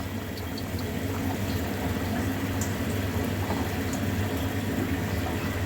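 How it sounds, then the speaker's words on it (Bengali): Fish curry broth in a pot on the stove bubbling and boiling at a steady simmer, a continuous close soft gurgle with small pops and no voices. "দেখো ঝোলটা কত সুন্দর টকবক করে ফুটছে।"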